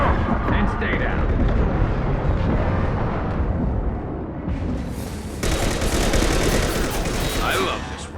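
Rifle gunfire in the Mass Effect Legendary Edition video game, rapid bursts of loud shots and booming impacts packed into a dense barrage, with a voice talking over the combat.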